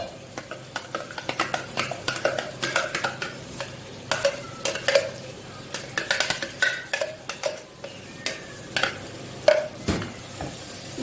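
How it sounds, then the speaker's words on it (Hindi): Ground onion paste cooks with korma masala and a little yogurt in a pan, sizzling softly beneath frequent rhythmic scraping and clinking of a spoon against the metal, close and busy throughout. "ग्राइंड की हुई प्याज के बाद ये बिल्कुल जो है पैन के साथ से पकना शुरू हो जाएगा।"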